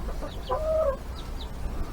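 A hen clucks low and steady beside her chicks, whose high peeps come in short bursts around her, on a small farmstead after a heavy rainstorm, close by with no voices.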